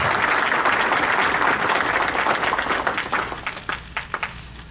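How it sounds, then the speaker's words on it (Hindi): Audience at an Urdu Academy classical music mehfil applauds a harmonium accompanist, a dense burst of clapping that stays loud and steady before thinning into a few scattered claps at the end. "आइए तालियों के साथ इस्तकबाल कीजिएगा"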